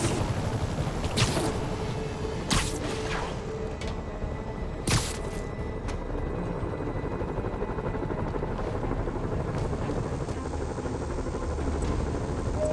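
Helicopters in a Spider-Man video game hover over the city with a continuous, loud rotor drone, punctuated by a few sharp bangs and whooshes, with no voices.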